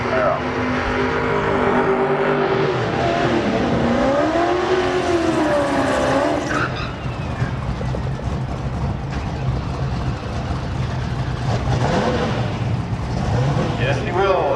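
A 2000 Chevrolet Camaro roars at a drag race, engine pitch rising and falling as it revs, loud and continuous, with a commentator talking over the engine noise.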